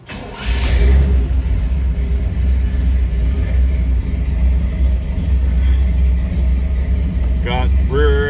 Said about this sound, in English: We're going to start up our 34 Streetrod.